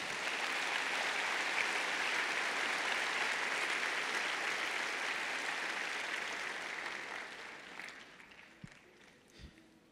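Church congregation applauding during a Spanish-language sermon, a full sustained roar of clapping that gradually fades and thins toward the end, leaving a few scattered claps.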